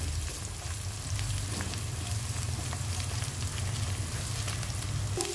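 Food for a noodle dish fries in a pan with a continuous close sizzle and soft spattering crackle, holding an even level from start to finish without any speech.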